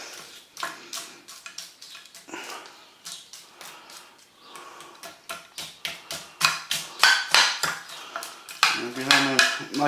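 A spoon stirs a beefy bean hotpot in a pot, scraping and clinking against the metal in quick irregular strokes that grow louder and busier toward the end.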